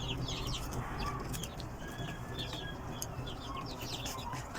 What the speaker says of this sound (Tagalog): Nakikiagaw din ang mga manok.